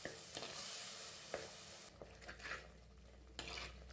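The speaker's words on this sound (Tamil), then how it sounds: "இந்த மாதிரி கரண்டிலேயே மசிச்சு விடுங்க." Tomatoes and onions mashed with a ladle in a pan for a Tamil dried-fish curry, giving close, irregular stirring and scraping scrapes over a steady sizzle of frying, with occasional light clinks of metal on the pan.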